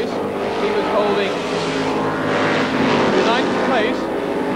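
A 1978 Formula 5000 race car, car number 10, comes into the pits at the Adelaide 100, its engine a loud buzzing drone with shifting pitch, heard under a commentator's talk.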